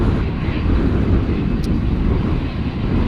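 A British Airways Airbus A319 at Schiphol gives off a loud, unbroken jet engine roar, dense and close, with a brief faint click partway through.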